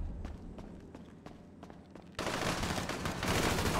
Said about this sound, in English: I didn't know there was more shooting.